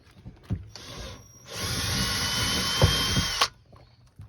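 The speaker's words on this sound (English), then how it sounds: "I need to ream the plastic out just a little bit on the hinge." A handheld drill reams out rivet holes in a plastic baggage-door hinge on a Roadtrek camper van, a short burst followed by a steady two-second whine, close up, with light clicks and handling noise around it and no speech.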